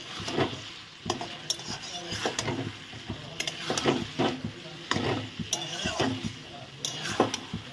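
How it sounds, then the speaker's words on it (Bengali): Bottle gourd leaves being stirred with spices in a pan, with repeated scraping and clinking of a utensil against the pan over a low sizzle, close and fairly steady. "মশলাটা দিয়ে ভালো করে নেড়ে চেড়ে নিলাম।"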